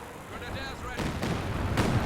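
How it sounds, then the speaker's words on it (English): A self-propelled howitzer fires artillery in a Company of Heroes 2 battle, with dull booming shots and rumbling impacts amid a constant din of combat and a voice talking over it. "artillery targeting this forward base"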